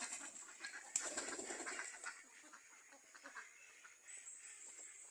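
A flock of two-month-old ducks quacks in a pen, scattered calls at moderate distance over a faint background hiss, with no talk.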